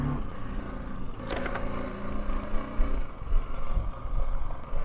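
A vehicle rolls over a short rough off-road patch on a ride from Mumbai to Bhimashankar, engine droning close with bumps and rattles mid-way, then steadier rumbling over uneven ground.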